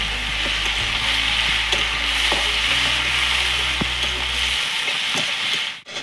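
Chopped tomato and chilli fry in hot oil with a loud, close sizzle while a utensil scrapes and clicks through the pan in occasional strokes, over a low steady hum that drops away near the end.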